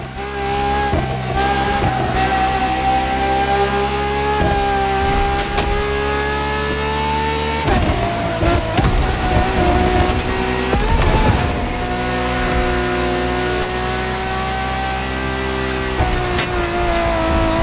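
A Ferrari F80 with a naturally aspirated V12 in The Crew Motorfest, its engine droning loud and steady with rising revs, gear changes and brief tire squeals through the run.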